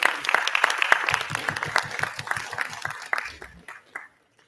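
A modest audience at the Lyallpur Punjabi Literary Festival claps in a ragged, sparse burst that gradually thins out and stops, individual hand claps clearly separate and fairly close.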